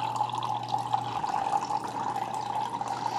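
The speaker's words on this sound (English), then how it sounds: "we're getting water leakage coming around the K-Cup." Water trickles and drips steadily around a reusable K-Cup inside a Keurig K-Supreme Plus Smart coffee maker, a close, continuous liquid splashing with a faint hum underneath.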